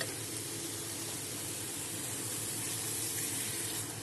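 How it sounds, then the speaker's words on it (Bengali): A small amount of water pours into a pan of okra curry, a steady hissing splash of running water at moderate distance, alone with no voices. "আর দেবো অল্প জল।"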